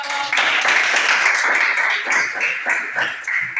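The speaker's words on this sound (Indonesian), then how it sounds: "tepuk tangan untuk kelompok" Classroom applause for a student group after their presentation: brisk, fairly close clapping from several people, steady for a few seconds and then thinning into scattered claps.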